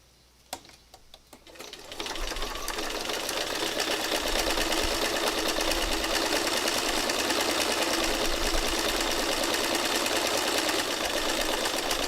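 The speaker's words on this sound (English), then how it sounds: "I'm going to stitch right back up over the zigzag stitching that I did" A home sewing machine, refilled with bobbin thread, stitches back over earlier zigzag stitching: a few soft handling taps, then a close, steady mechanical whir and rapid needle chatter that runs without a break to the end.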